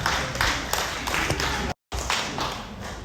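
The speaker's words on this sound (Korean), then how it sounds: "우리 수고한 우리 아이들에게 다시 한번 큰 박수 부탁드립니다" A church congregation claps for the children in a dense, close round of applause, broken by a brief silent gap before the clapping resumes.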